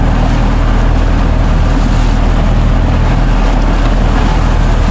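A boat engine drones loudly and continuously at high speed in second gear, a dense steady rumble with no pauses or voices.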